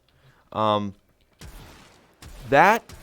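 The Shedu weapon fires in the sci-fi shooter Warframe: two sharp, ringing energy bursts separated by a rougher crackling blast, heard close and loud.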